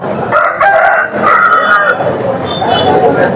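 Roosters of country breeds crow repeatedly at a rural chicken market, loud and close with overlapping calls, clucking and crowd noise behind them.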